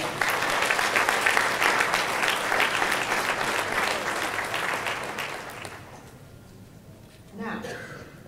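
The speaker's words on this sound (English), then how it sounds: "a big round of applause for all of our panelists that are here today." Audience at an ALC '17 financial services panel applauds the panelists, sustained dense clapping for about six seconds that fades out before a brief voice.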